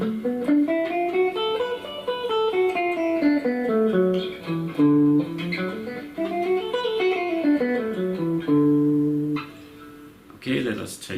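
A melodic blues guitar lick, played on electric guitar with an added passing tone, runs as a clear, sustained phrase of bent and sliding notes for about nine seconds before a brief pause.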